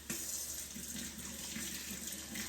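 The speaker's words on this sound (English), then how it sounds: "Let me give my hands a wash." Tap water running steadily into a kitchen sink while hands are washed, a constant close hiss with faint splashing, with no talk.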